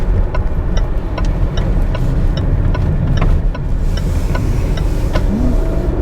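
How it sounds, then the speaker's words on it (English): A 2020 Range Rover Evoque SE P250 engine hums steadily through a corner on a test drive, a loud continuous low drone with road noise and faint ticking sounds on top. "you can still hear the engine quite a bit."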